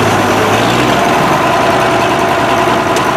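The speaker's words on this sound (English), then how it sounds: "as you speed the engine up" An Oliver tractor engine with Hydra Power shift runs at a steady, loud roar, a continuous close drone with no speech over it.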